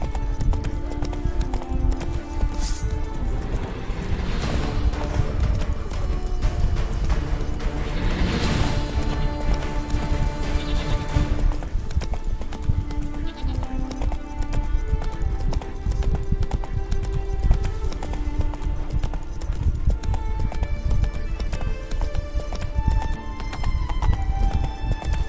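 Horse hooves clip-clop steadily in The Witcher video game, with occasional neighs and whinnies and some crashing sounds over a busy, continuous game soundtrack.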